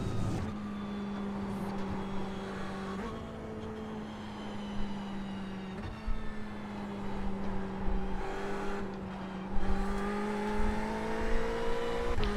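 A race car at Silverstone in iRacing, driven slowly to warm its tyres: a steady, droning engine note holds at a moderate pitch, stepping between gears every few seconds, with occasional brief rises in revs.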